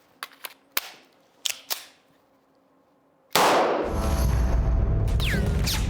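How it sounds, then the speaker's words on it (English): A weapon is loaded with a series of sharp metallic clicks and clanks, then fired as a loud blast that turns into a sustained roaring rush filling the rest of the clip. "Now I'm gonna load and fire the weapon as fast as possible."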